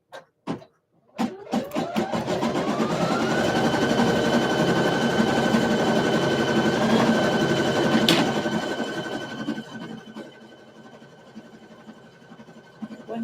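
An electric sewing machine stitches shirt fabric. It starts with a few sharp clicks, then runs as a continuous loud motor whir for about eight seconds before winding down, followed by quiet handling taps.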